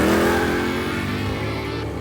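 An Oldsmobile Cutlass muscle car roars through a drag racing launch, its engine loud and sustained at high revs with a dense, gritty exhaust note that holds steady across the run.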